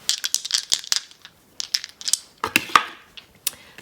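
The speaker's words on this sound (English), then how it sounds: "Let's see what the dice has to say." Astrology dice tumbling and clattering across a surface, a run of sharp, close rattling clicks in quick uneven bursts, then a brief pause and a second flurry of knocks as they settle.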